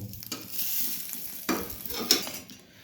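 Folded bread slices toasting in a pan for an egg toast with cheese and butter: soft sizzling under scraping and light clinks of a utensil against the pan, with a few louder scrapes.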